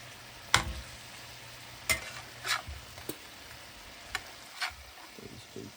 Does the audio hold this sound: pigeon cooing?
no